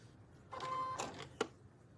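A sewing machine stitching straight seams on a fabric table runner at a fast speed, a quiet whirring burst with rapid clicks and a sharp tap near the end.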